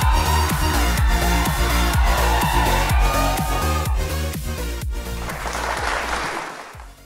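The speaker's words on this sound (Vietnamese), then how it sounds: "vỗ tay chào đón nhà gái đến với chương trình ạ" A studio audience on a Vietnamese in-laws game show claps to welcome the bride's family. Steady, dense applause runs over a rhythmic music bed and fades near the end.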